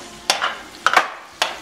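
Ginger and onions stirred in a pan for pinakbet, three short clattering utensil scrapes with faint sizzle between them, close and moderately loud.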